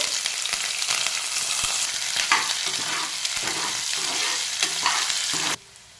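Chopped onions and curry leaves fry in hot oil with mustard seeds and lentils for a tapioca snack. A close, continuous sizzle is broken by stirring scrapes and cuts off abruptly near the end.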